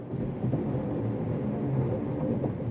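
Low, rumbling road roar inside a 2026 Cadillac CT5-V Blackwing cruising at highway speed over concrete slab, a dense continuous drone with faint rhythmic thumps and no speech.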